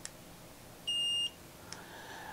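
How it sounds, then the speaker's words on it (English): A single clear electronic beep from an Omni laser device after a two-second button hold, steady and high-pitched, lasting under half a second against quiet background hiss, with a faint click afterward. "you have to press and hold for about two seconds to hear a beep"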